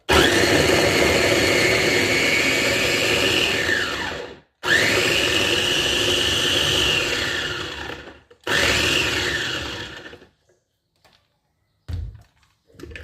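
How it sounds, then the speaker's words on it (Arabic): Onion minced in an electric chopper: three loud whirring bursts of the motor, each several seconds long with brief stops between, then a couple of short faint knocks. "فرمنا البصل اهو ماشي"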